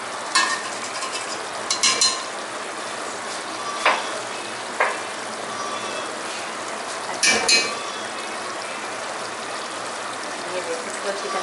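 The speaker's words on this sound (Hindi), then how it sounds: "अच्छी तरह से भून लेंगे फुल फ्लेम पे" Minced meat for khara masala keema frying on full flame, with a continuous close sizzle and occasional scrapes and knocks of a spoon stirring against the pan.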